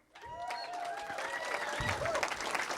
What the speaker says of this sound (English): Don't applaud because this part's not over yet